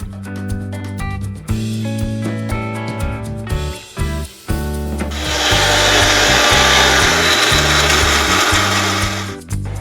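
An electric blender whirs in short bursts, then grinds steadily and loudly, turning ginger into a paste for a prawn dish; the motor pitch shifts as the load changes, then it stops abruptly.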